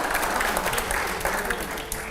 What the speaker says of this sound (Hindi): अगले सवाल से पहले जोरदार तालियां हो